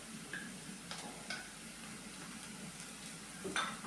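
Onion sautéing with ginger-garlic paste and cumin in a pan, a soft steady sizzle broken by a few light clicks of a spoon stirring, close and quiet with no voices.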